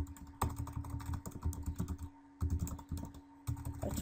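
Rapid bursts of keystrokes on a computer keyboard as a tweet is typed, close and clear, with short pauses between runs of typing over a steady low hum.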